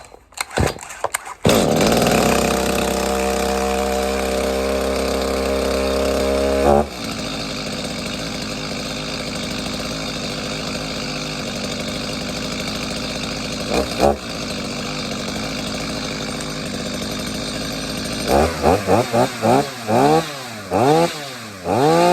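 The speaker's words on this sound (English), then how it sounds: "Don't leave it long here before pulling the trigger and returning it to the run position where the saw can idle normally." A Stihl chainsaw roars at high revs, then drops to a steady idle with a brief blip, and finishes with several short throttle revs close by.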